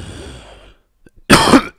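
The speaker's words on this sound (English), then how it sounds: "that was me coughing" A single person coughing close to the microphone, one short harsh burst after a stretch of quiet background hum.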